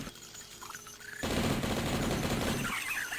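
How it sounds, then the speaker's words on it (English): Rapid gunfire aimed at bats in the first-person shooter Blood: a dense, loud burst of shots begins abruptly after a quieter stretch and keeps up for over a second before easing off, with no talk over it. "I don't even know why I bother shooting these bats."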